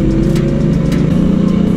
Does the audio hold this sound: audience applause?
no